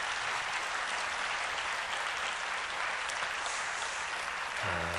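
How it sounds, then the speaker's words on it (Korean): A church congregation at a Wednesday service claps together in sustained, dense applause, loud and even throughout, briefly touched by a voice near the end. "박수로 한번."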